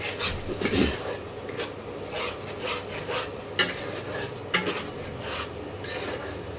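Coconut and cashew paste sautéing in a pan, a soft sizzle broken by spatula scrapes and a few sharp clinks against the metal.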